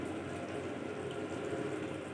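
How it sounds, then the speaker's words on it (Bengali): Water trickling into a pan of jackfruit kofta curry, a steady soft wash of liquid pouring without pause, close and fairly quiet, with no voices. "জল দেওয়া হচ্ছে একটু"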